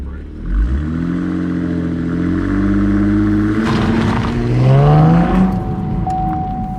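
A V6 Camaro engine revs hard at launch, rising in pitch as the car pulls away, with a steady loud drone and a whining climb near the end.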